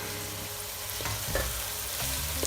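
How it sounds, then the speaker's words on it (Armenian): Steady sizzling of vegetables frying in a pan, with a few stirring scrapes and clinks, continuous and close. "մի քանի րոպե տապակում ենք"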